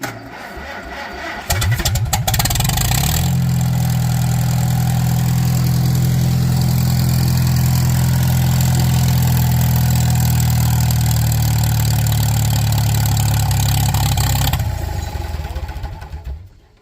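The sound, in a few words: Farmall tractor engine running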